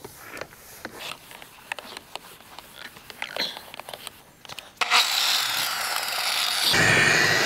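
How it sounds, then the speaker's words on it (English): A power buffer polishing the oxidized front of a camper starts as sparse clicks and taps, then runs at about the midpoint as a loud, steady, broadband whirring hum that holds to the end. "if you've never used a buffer, you can't put it right flat on there"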